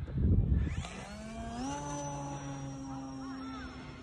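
Electric motor of a Timber X remote control airplane revving up at a pond, a steady high whine with rising pitch and a buzzing edge, loud and close, preceded by a brief low rumble.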